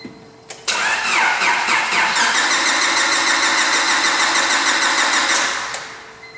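A car engine cranks over on the starter during a relative compression test, with the fuel injector disconnected so it cannot fire; steady, loud, rhythmic cranking runs unbroken for about five seconds before stopping.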